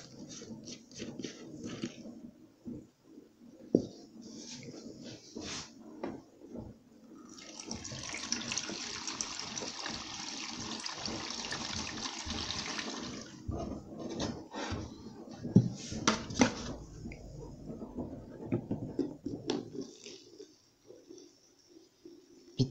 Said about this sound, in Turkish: Bitmiş olan sıvı deterjanların şişelerini her zaman böyle çalkalayın ve makinenin içerisine dökün.